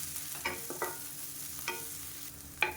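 Onion and drumstick leaves sautéing in a pan for millet adai, a soft steady sizzle broken by four or five distinct spatula strokes scraping the pan, with a sharper clack near the end and no voices.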